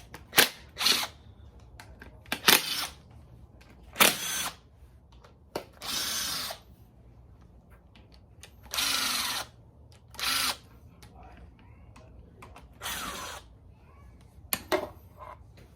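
A power tool spins off the 8mm valve cover bolts on an LQ4 6.0 engine during a rebuild: short, loud ratcheting bursts repeat about a dozen times with quiet gaps, close to the microphone.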